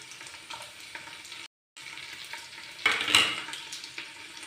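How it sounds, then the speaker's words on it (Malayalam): Finely chopped garlic sautés in a pan for biryani, a soft steady sizzle with stirring. The sizzle swells louder with a scrape near the end after a brief silent gap. "വെളുത്തുള്ളി ഒന്ന് കളർ മാറുന്നതും വരെ വരട്ടിയാൽ മതി"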